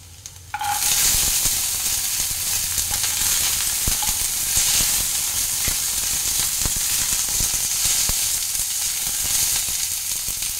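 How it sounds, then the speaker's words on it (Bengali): Peas tipped into a pan of frying peanuts and grated coconut set off a loud, steady sizzle that runs unbroken for about ten seconds with faint stirring scrapes, no voices. "বাদাম আর নারকেলটা একটু ভাজা ভাজা হয়ে গেছে, আমি এবার মটরশুঁটিটা দিয়ে দেবো।"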